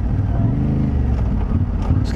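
A motorcycle engine drones close and steady as the rider eases off the throttle on a left-hand bend, the harmonic hum dipping slightly in pitch, with constant rushing wind noise throughout.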